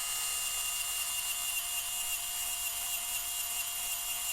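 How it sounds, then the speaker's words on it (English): A Hobby Details electric screw gun runs while backing a bumper bolt out of a TRX-4 Sport RC truck. It makes a steady, high-pitched whir that lasts the whole time without pausing, and no voices are heard. "Take my Hobby Details screw gun. We'll take this off real quick."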